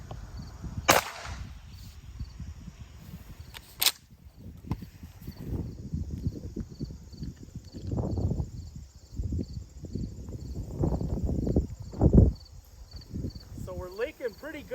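Two sharp, loud shotgun blasts a few seconds apart, a cut wax shell fired outdoors, over a steady chorus of crickets with rustling and handling noises between the shots.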